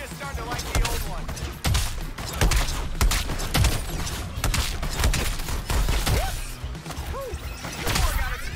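Enemy cannon in a video game fires in a dense run of heavy booms and thuds, one after another, loud and close, with whooshing game effects and laser-like chirps between the blasts.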